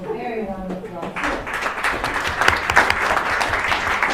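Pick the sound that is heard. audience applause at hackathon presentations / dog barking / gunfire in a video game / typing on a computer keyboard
audience applause at hackathon presentations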